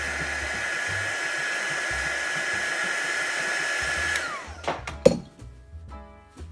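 A hair dryer blows steadily and fairly loud to dry a paintbrush while crafting festive Christmas drink stirrers, its whine stopping abruptly after about four seconds, followed by a few light clinks and handling knocks.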